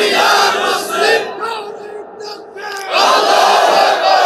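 A large crowd at an Islamic religious gathering (mahfil) in Rangpur, chanting together in loud, roaring unison, with bursts rising and falling across a few seconds and a brief dip before a final swell.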